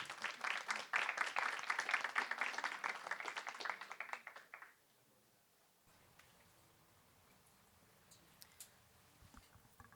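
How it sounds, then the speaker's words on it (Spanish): An audience at a scientific lecture on immunodiagnostics applauding as the speaker is welcomed, with lively clapping for about four seconds that fades out, followed by a quiet room with faint rustling. "entonces recibámosla a Diana con fuertes aplausos."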